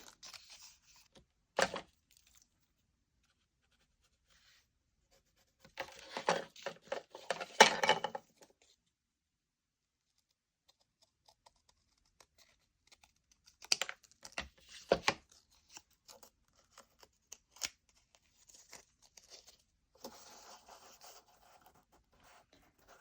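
Paper is cut for a junk journal cover in short, scratchy bursts of snipping and rustling, separated by long quiet gaps. The sounds are close but soft, with no speech.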